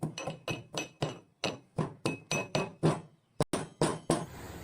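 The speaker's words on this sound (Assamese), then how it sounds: "এতিয়া আদা নহৰু অলপ থেতেলিয়াই ল'ম" Ginger and garlic are crushed with about a dozen sharp, evenly spaced pounding thuds, near and loud with a ringing clink on each strike.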